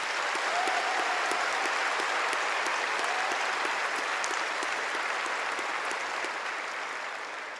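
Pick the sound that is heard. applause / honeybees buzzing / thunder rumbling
applause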